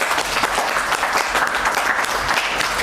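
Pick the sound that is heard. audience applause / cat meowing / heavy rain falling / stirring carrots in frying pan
audience applause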